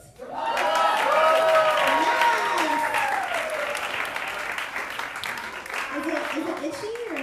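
Audience applause and cheering for the host at a queer comedy night, loud and sustained throughout, with crowd voices and whoops mixed into the clapping.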